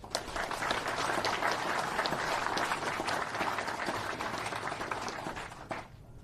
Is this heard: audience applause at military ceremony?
yes